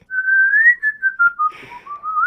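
A single person whistles a wavering, sliding tune up close, with short breaks between phrases and a brief breathy rustle midway.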